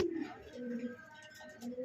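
A pair of pigeons coo softly nearby in short, low, throaty phrases that repeat with small pauses.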